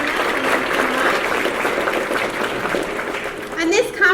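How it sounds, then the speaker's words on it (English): Conference audience applauding sponsors, a dense wash of clapping from a large crowd that holds steady for several seconds and thins near the end. "So please give them a round of applause for sponsoring us."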